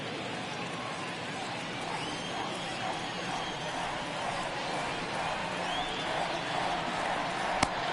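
Steady, distant roar of a baseball stadium crowd in MLB The Show 22, a dense continuous murmur with a sharp crack near the end.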